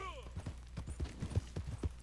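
A black Turkoman horse in the video game Red Dead Online clip-clops along in a steady rhythm of hoof falls, with a short whinny at the start and the steps sitting faint under continuous talk.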